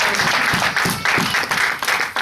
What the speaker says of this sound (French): Est-ce qu'on peut acclamer cette belle parole du Seigneur?